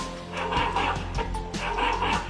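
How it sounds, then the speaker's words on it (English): An African-made robot dog gives a run of loud, close electronic barks in quick succession over a low background hum. "So, when it hears a sharp sound now, you will see it will start barking."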